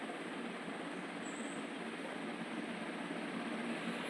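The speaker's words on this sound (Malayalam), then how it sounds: "ട്രെയിൻ വന്നിട്ടുണ്ട്" A steady, dense rumble of a train rolling along the rails, constant and fairly loud throughout with no talking.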